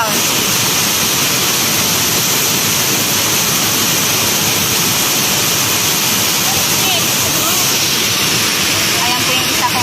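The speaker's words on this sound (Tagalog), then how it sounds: "Ganda ng falls guys." A waterfall of cold, clear water roars steadily and loudly at close range, a dense unbroken rush of splashing spray that holds constant from start to finish.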